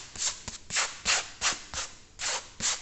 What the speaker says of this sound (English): the first thing we've got to do is rub this salt off